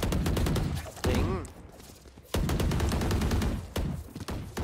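Rapid bursts of automatic gunfire in the video game Valorant crackle loudly in quick repeated volleys, with a brief lull in the middle before the shooting resumes.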